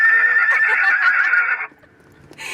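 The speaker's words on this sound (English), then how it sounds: "Yeah, I like the horse horn." Novelty horse-neigh horn fitted to a restored Ford Mustang, sounding one loud, close whinny that rises and wavers for about a second and a half before stopping, followed by a brief quieter sound.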